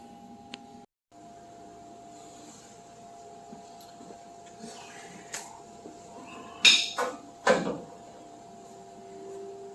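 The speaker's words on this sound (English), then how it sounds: "beat on it with a sledgehammer" A sledgehammer striking the rocker panel of a 1966 Chevrolet C-10 truck gives a few sharp metallic blows clustered near the end, standing out from a quiet, steady background hum.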